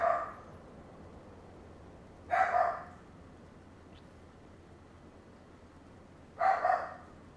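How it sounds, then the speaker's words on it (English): A dog barks indoors in a house in Farming Simulator 25, three separate short bursts of barking spaced a few seconds apart over a quiet low hum. "Now the dog's barking in the house."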